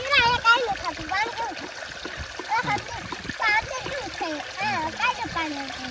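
Water gushing from a motor pump as a large pond is emptied, a continuous splashing rush heard beneath children and adults talking loudly and steadily over it.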